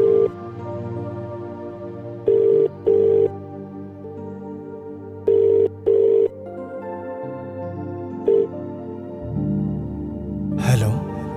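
An outgoing call rings back as a low tone in evenly spaced double pulses over a soft background hum, with a voice starting to speak near the end.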